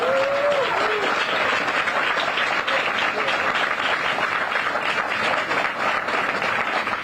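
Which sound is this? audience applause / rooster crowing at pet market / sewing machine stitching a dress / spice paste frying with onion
audience applause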